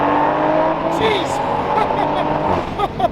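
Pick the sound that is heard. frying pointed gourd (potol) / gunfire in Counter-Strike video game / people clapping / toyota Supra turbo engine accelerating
toyota Supra turbo engine accelerating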